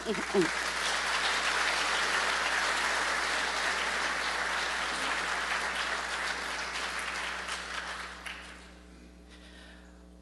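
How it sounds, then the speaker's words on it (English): Sustained applause from a large audience at a symposium, steady and dense for about eight seconds before tapering off into quiet room tone with a faint hum. "let's have a little round of applause for a true New York treasure"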